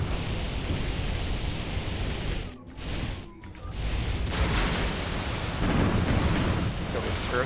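Turret combat in Galahad 3093 on a canyon map: a loud, steady barrage of gunfire and explosive blasts with rumbling booms, briefly dipping before surging again, with a voice talking over it.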